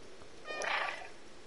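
A single short meow from a cat in a video game, faint and slightly strained, rises briefly over low background noise.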